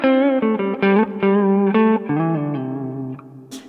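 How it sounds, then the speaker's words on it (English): Electric guitar played through a Kemper profiler with a wet effects chain, a run of sustained chords and notes with clear harmonics, changing every half second or so, loud and close with no talk. "You'll notice it's dry because the wet effects are now on the other signal chain,"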